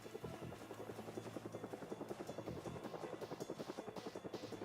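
Helicopter in the game Project Zomboid passing overhead, its rotor beating in a fast, steady chop of rhythmic thumps over a loud engine drone, close and continuous.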